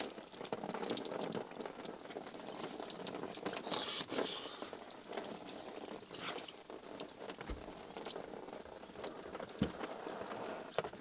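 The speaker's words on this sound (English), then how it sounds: "it's got to be solar shower time, hasn't it?" Outdoor solar shower running, a soft continuous patter and splash of water falling, fairly quiet and uneven, with no one talking.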